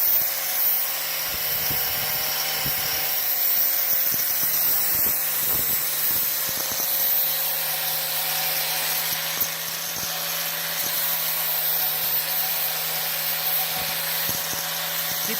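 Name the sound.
4.5 inch angle grinder with 60 grit flap wheel rounding metal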